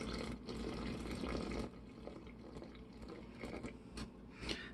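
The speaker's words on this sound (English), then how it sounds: "We're going to go ahead and finish pouring this over our grounds" Cold water pours steadily over coffee grounds into a carafe for cold brew with a soft rushing, gurgling sound, close and fairly quiet, tapering toward the end.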